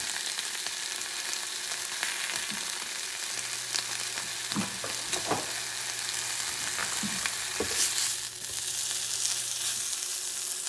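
Lean bison bacon sizzles in a dry cast iron pan with no oil, a steady close crackling hiss throughout, broken by a few soft scraping and shifting sounds as the strips are moved.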